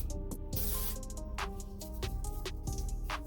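A single hiss of aerosol hair spray bursts briefly up close while wand-curling hair, amid soft faint background noise and clicks.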